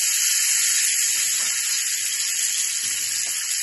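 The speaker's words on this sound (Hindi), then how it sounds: "तो चलिए, सबसे पहले हम एग्स को फ्राई करेंगे। ये मस्टर्ड ऑयल मैंने डाला है" Eggs frying in hot mustard oil in a pan make a loud, steady hiss and crackle of sizzling that stays constant throughout, with no talking.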